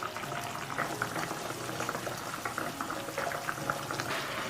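Chicken wing tips and mushrooms braise in mushroom-soaking water with oyster sauce, a little rock sugar and light soy sauce, giving a steady close bubbling and simmering that continues without a pause.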